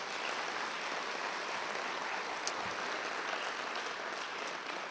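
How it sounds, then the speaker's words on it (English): Steady, dense applause from an audience at the NEH/NEA 50th anniversary celebration fills the whole stretch, even and sustained without breaks. "Round of applause."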